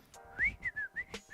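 A person whistles a short tune of four quick rising and falling notes, close and clear against a quiet background.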